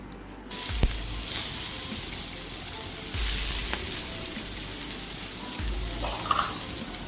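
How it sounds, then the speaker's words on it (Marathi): Tomatoes roasting in a pan on a gas stove for smoky baingan bharta, giving a steady close sizzle with a few short louder bursts of crackling and spitting throughout, no voices. "तर मी ते पॅनमध्ये आता चांगले भाजून घेणार आहे"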